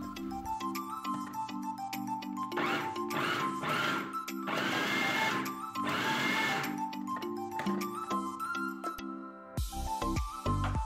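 Food processor pulsing a vegetarian burger mixture in short whirring bursts, loud and close, with steady mechanical hum and clatter between pulses and no talking.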